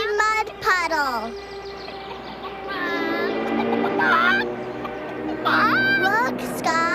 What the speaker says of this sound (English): See the big flying duck.